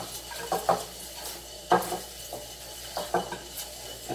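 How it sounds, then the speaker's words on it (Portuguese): Shredded cabbage tipped into a soup pot of wilted vegetables and pressed down, giving several soft rustling, scraping bursts with light pot clatter at an uneven pace, close and fairly quiet, with no talking. "Acrescenta todo o nosso repolho e vai socando"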